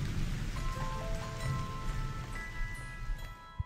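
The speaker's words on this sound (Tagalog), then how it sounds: "Umulan pa talaga." Rain falls steadily as a sound effect in a Filipino radio drama, a soft continuous patter with faint scattered drops, fairly quiet and heard alone without voices.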